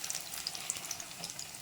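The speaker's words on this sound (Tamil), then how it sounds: "இப்போ இதை பொரிய விடுவோம்." Banana bajji fritters frying in hot oil, a faint, steady crackling sizzle with small pops scattered through it, with no voices.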